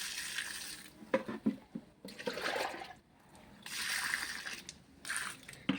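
Water is poured onto potted rose plants in gushing, splashing pours broken by short pauses, moderately close and with no voices.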